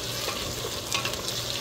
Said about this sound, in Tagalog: Ngayon po ay magigisa muna ako.